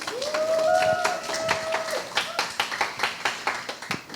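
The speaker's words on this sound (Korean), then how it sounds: "우리 박수로 환영하도록 하겠습니다" Sparse hand claps build into a short round of applause from a small group at an online church youth service, with a brief melodic tone sounding early on.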